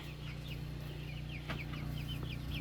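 A mixed flock of chickens clucking on an off-grid homestead, with steady, close, overlapping clucks and chirps over a constant low background hum.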